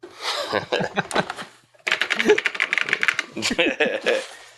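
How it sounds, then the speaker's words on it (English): Computer keyboard keys clatter in quick, irregular bursts of sharp clicks, close and fairly loud, with a brief pause before a longer run of typing. "I could just hear those keys click clacking"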